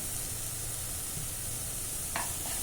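Chilli paste frying in oil in a pan for a green chilli curry, giving a steady, close sizzle throughout with a brief scraping stir near the end.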